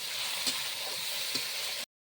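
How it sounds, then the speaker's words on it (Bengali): Onion paste and tomato paste masala frying together in a pan, a steady sizzle throughout with two soft stir scrapes, close and fairly quiet, no talking. "পেঁয়াজ বাটা, টমেটো বাটা সব একসঙ্গে ভালোভাবে ভেজে নেব"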